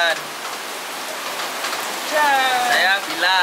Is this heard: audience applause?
no